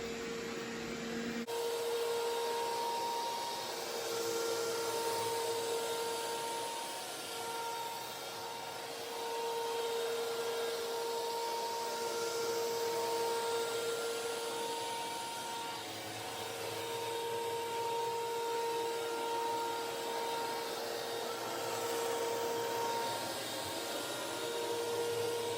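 Bissell IconPet robot vacuum spot cleaning pet hair, a steady close motor whine with a high tonal hum, running continuously without pause and with no talking.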